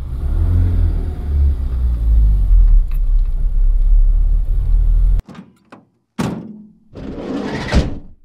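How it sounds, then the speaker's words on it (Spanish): A car arriving: a loud, close engine rumble for about five seconds, then it cuts off, followed by a couple of sharp thunks like a car door and a final scraping, sliding noise. "De pronto el sonido de un auto hizo que mamá corriera hasta la puerta."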